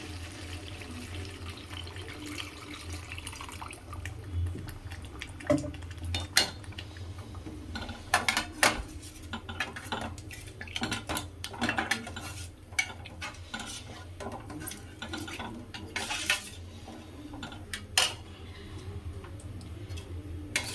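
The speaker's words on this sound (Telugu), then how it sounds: "సో చింతపండు రసం పోసి బాగా కలుపుతున్నాను." Tamarind juice poured into a pot of fish curry masala and stirred, a wet liquid swirl under repeated ticks and scrapes of a spoon against the pot throughout.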